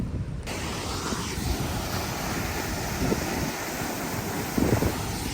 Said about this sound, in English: But maybe I'll enjoy the waterfall first.